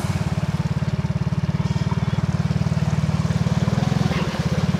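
A motorcycle pushes through a flooded village road, its engine thumping in a fast, even, close-up putter that stays steady the whole time over a wash of background noise.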